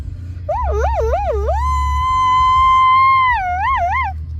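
A four-year-old child vocally imitates an ambulance siren, warbling rapidly up and down, then holding a long steady high tone before warbling again, close and loud.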